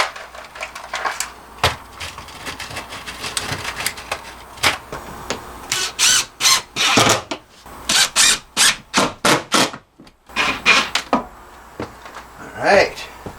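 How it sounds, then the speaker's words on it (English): Screws being driven into a glued wooden face piece during a four-season camper van build, heard as a run of short, sharp bursts that cluster mid-clip between quieter handling noises. "let's put a couple quick screws in there"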